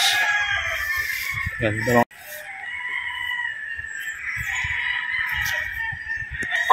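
A yellow-legged gamecock rooster crows loudly and close in a conditioning flying pen, one long drawn-out crow over steady background hum, with someone talking briefly.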